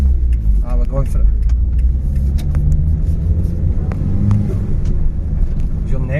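Close cabin rumble of a restored Nissan March Super Turbo (PT12) engine pulling under turbo boost, a loud steady drone with occasional rattles and people talking over it.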